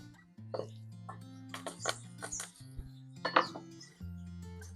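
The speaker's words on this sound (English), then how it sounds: "let's give these a crush. Make it easy to peel" Five garlic cloves crushed with a knife on a board beside an outdoor cooking fire, heard as a few sharp cracking knocks and clinks over a steady low background hum.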